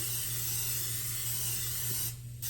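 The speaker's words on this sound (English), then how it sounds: "first I'm going to spray" A steady, close hiss of cooking spray inside a slow cooker lasts about two seconds and then cuts off abruptly.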